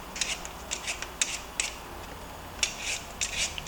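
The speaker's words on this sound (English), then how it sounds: "I'm going to start off by peeling my potatoes" Potatoes being peeled by hand for a Ghanaian meat pie, a series of quick, faint scraping strokes in an irregular rhythm, close by, with no talk.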